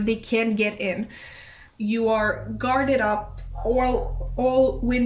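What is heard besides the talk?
None of the usual background noises is heard.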